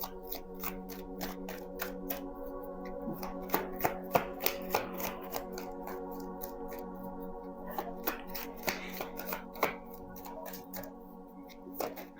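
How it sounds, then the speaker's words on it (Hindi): Tarot cards being shuffled by hand, a quiet run of soft riffling flicks and taps that come in irregular bursts over a steady low hum. "एक तो सर्दियों में ना कार्ड्स शफल भी नहीं होते हैं"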